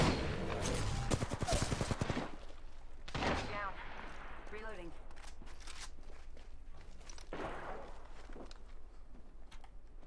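Gunfire in the Apex Legends video game: a dense burst of rapid shots up front, then scattered single shots and footsteps; a player talks over the quieter stretch.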